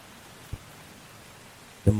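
Rain falling steadily as a soft, even hiss, broken by two brief dull thumps, with no clear voices.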